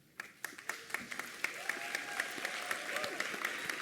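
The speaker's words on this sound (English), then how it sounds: "let's give them a round of applause and recognize them" Audience applause at a graduation convocation, a steady round of clapping with sharp individual claps standing out over a dense wash, building and holding for several seconds with a few murmurs underneath.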